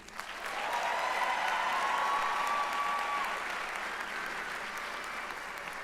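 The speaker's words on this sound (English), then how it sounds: "Can we give a round of applause for the 29 scholars who earned their associate's degree?" Steady applause from a graduation audience swells after a brief start and continues as a dense, even clatter of many hands, with a faint whistle or cheer early on.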